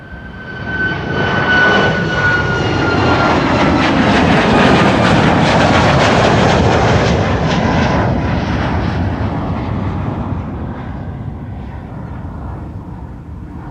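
WestJet airliner departing toward Halifax from Schiphol, a loud sustained jet roar building quickly, peaking close by mid-pass, then slowly fading as it draws away.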